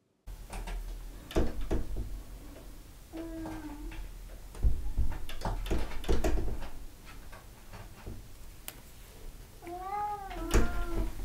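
An indoor cat meows several times, with short rising and falling cries spread across the stretch, mixed with scattered knocks and clatter from nearby objects.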